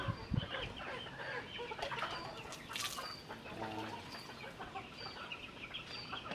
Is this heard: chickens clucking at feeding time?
yes